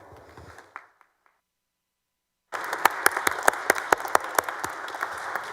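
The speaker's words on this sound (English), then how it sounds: "if we could just take a moment to recognize these fine folk with a round of applause." A round of applause fills a Senate chamber, starting abruptly after a short silence and continuing as dense, steady clapping from many people with sharp individual claps standing out.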